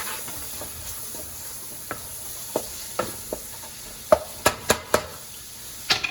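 Shrimp seasoned with Creole seasoning sizzling in a pan, a soft steady hiss with sharp occasional clicks and ticks of utensils, close and moderately quiet with no talk.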